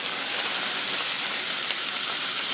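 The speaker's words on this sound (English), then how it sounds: "I'll just let them little fellers fry up there" Meat fries in a hot skillet with a steady, loud hiss and crackle that holds evenly throughout, with no talk over it.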